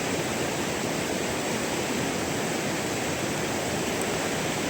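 A rural river flows under a bridge at the Kali Jompo plantation in Jember, giving a steady, dense rush of water that holds constant throughout with no voices.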